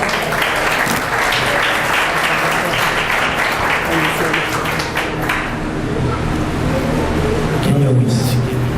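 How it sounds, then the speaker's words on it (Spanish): Warm applause welcomes a pastor at a church gathering in Mexico, a dense and sustained crowd clapping that fills the room for several seconds. "Vamos a recibirlo con un caluroso aplauso"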